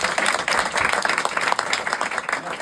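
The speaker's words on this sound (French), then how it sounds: "On peut les applaudir." Theatre audience applauding at the Théâtre de l'Atypique during the Avignon Off festival, a steady dense clapping that stays at an even level for its whole length, with no speech over it.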